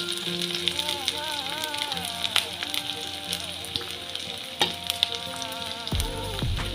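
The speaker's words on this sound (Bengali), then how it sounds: "এই যে আমার তেলটা গরম হয়ে গেছে। এবার আমি দিয়ে দেব পেঁয়াজ কুচি, তারপর দিয়ে দেব লঙ্কা কুচি," Chopped onion and green chili frying in hot oil for a Bengali peas and potato curry, a loud continuous crackling sizzle with occasional pops and stirring clatter, while a person talks over it.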